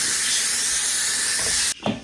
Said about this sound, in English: there's a button right on the front that I push, which will release the steam